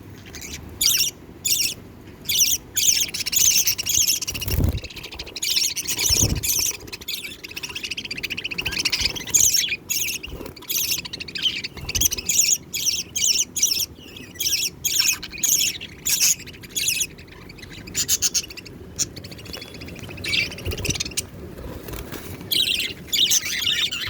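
Budgies chirp and squawk close by, a busy stream of short sharp calls and chatter in irregular bursts, with occasional soft thumps and wing flutters.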